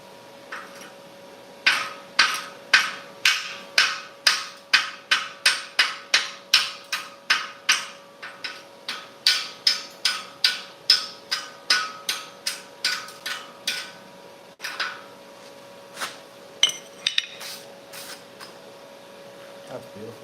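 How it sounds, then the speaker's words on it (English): A chipping hammer strikes fresh welds on a metal fire pit in a steady, rapid series of sharp clanks, about two dozen close-up blows, with a faint constant hum behind them. "Like my chipping hammer."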